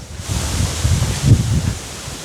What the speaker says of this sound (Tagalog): Mahangin. Ang lamig pa.